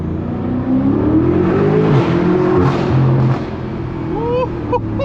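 A BMW M5 engine revs and pulls hard while driving through city streets with traction control off, a loud, sustained drone rising and falling in pitch, with faint voices now and then.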